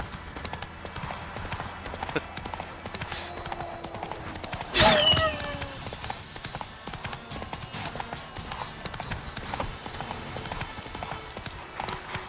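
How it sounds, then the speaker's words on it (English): Horse hooves clip-clop steadily in The Witcher 3 video game, a continuous rhythmic trotting throughout, with a brief louder burst near the middle and game ambience underneath. "This is why I don't ride the horse."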